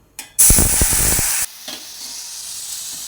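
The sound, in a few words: hot water poured into roasted semolina sizzling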